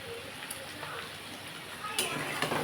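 Potatoes, pointed gourd and prawns stir-fried in hot oil give a soft, continuous sizzle and hiss, fairly quiet, with a couple of brief louder scrapes of stirring.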